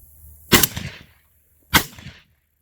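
Two loud, sharp blasts from a Tokarev TAR 12P shotgun at an outdoor range, spaced just over a second apart, each with a short echoing tail and no talk.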